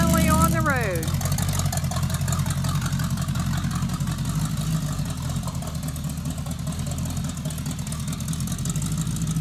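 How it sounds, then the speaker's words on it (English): A Plymouth three-window coupe on its first drive out of the garage idles and rumbles steadily up close, a low continuous engine drone with a brief rising whine at the start and people talking over it. "little Plymouth Coupe's first ride. A lot of hard work and finally on the road."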